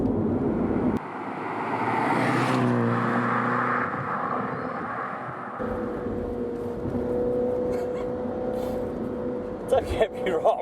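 A Mini car drives a bumpy Warwickshire country road, producing a continuous rumbling road and engine noise that shifts in tone partway through, with sharp knocks and thumps from the uneven surface near the end.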